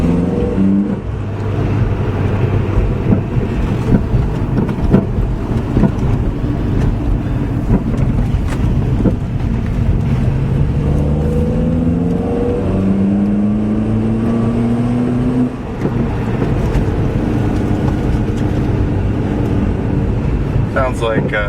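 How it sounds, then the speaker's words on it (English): A Kia Forte Koup engine with a K&N intake revs loud and steady with rising and falling pitch, buffeted by wind noise, while someone talks over it. "Sounds like K&N intake."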